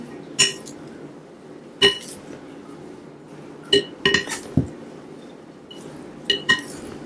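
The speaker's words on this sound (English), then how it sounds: "Mix up the salad so you can see." Wild weed salad tossed in a bowl, giving scattered sharp clinks and knocks of utensils against the dish, spaced a second or two apart over a quiet background.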